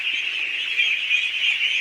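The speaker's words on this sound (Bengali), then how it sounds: "দেখতে পাচ্ছেন হাজার হাজার হাঁস" A dense, continuous chorus of nasal quacking from a large flock of thousands of ducks, steady and close, with no pauses.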